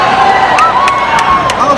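A loud school pep-rally crowd cheering and whooping together, with high shrill shouts rising over the roar and voices mixed in throughout.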